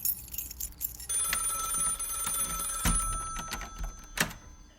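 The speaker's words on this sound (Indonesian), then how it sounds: "Kenapa nggak berhenti dah teleponnya?" A landline home telephone set beside the front door rings over and over in a steady, bright electronic bell pattern, fairly close and clear, with no talking over it.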